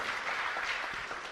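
Applause from a meditation-class audience, a steady patter of clapping filling the short stretch at an even level with no voices over it.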